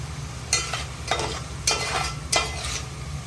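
Ground masala paste sautés in oil for a sea crab masala, giving a low sizzle over a background hum, broken by four regular scraping stirs with a spoon.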